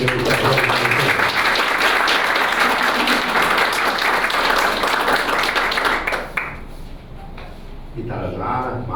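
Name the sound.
audience applause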